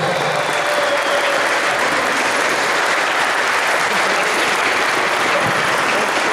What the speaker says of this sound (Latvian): Jūs aplausiet!